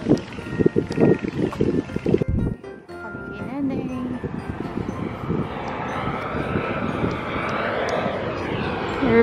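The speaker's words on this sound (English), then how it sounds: "Airplane." An airplane passes overhead outdoors, a rising broad roar that builds steadily over several seconds after a stretch of background talk and bumps, growing louder toward the end.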